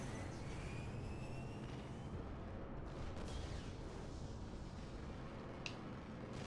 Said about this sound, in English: That was a big old bomb.